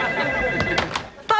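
A telephone rings during a sitcom scene, a short bright ring bursting in near the end over steady background sound.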